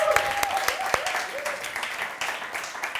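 A church congregation cheering and clapping together at a service, a dense burst of applause that starts loud and then trails off over a few seconds, with voices mixed in.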